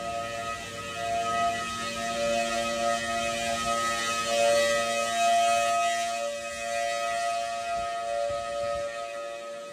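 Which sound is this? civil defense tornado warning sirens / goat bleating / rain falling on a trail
civil defense tornado warning sirens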